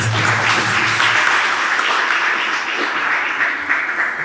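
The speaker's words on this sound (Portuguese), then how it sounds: "E uma linda salva de palmas." A church congregation gives a full round of applause during a worship service, a dense, steady wash of many hands clapping that holds for several seconds at close range.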